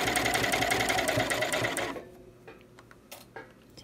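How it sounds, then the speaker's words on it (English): A sewing machine stitches a fabric gusset in a steady, fast mechanical whir for about two seconds, close and clear, then stops, leaving faint clicks and handling noises. "Try to just sew right along where you sewed before."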